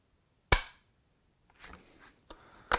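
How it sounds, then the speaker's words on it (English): Sharp mechanical clicks of a rifle trigger being dry-fired with the action screws removed, one crisp snap near the start, a softer rustle of handling, then two more dry clicks toward the end. "Just close your eyes and squeeze the trigger"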